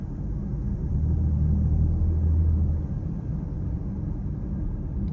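A 2024 BMW X5 xDrive40i M Sport's engine hums low and steady from inside the cabin in stop-and-go traffic, swelling briefly in a deeper rumble before easing back to a quiet drone.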